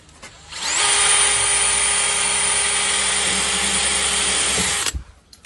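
A power drill bores a hole into a drain pipe while a boiler fitting is being made, one steady loud whine lasting about four seconds that starts and stops cleanly, with no talk over it.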